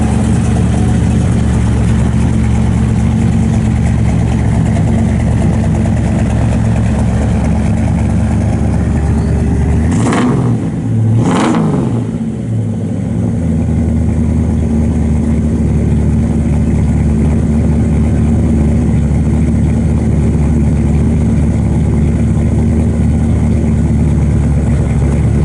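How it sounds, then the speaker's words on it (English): A 1964 Chevrolet Impala SS with headers and dual Flowmaster exhausts idles with a loud, steady burble, then gives two quick sharp revs midway before settling back to a rough idle. "Got nice like factory headers and the dual flow masters all the way out the back."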